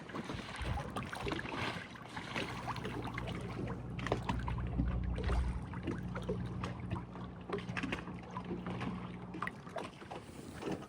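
A 1993 Hatteras 70 cockpit motor yacht coasts on a West Michigan harbor with its engines off and a fault being checked, giving a soft wash of water and wind rumble with faint low hum and creaks.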